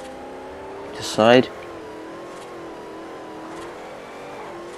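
Car drifting in Forza Horizon: a steady engine drone with a sharp rising rev burst around one second, then continued even engine hum while someone talks over it.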